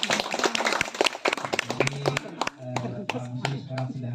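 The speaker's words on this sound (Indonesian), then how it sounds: "Tepuk tangan." Scattered clapping from an audience at a community gathering celebrating a new house built by a religious organization, sharp irregular claps mixed with voices and murmuring talk throughout.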